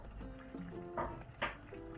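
A little water is poured into mutton cooking with curd in a pressure cooker, heard as two short, soft splashy pours over a low kitchen background.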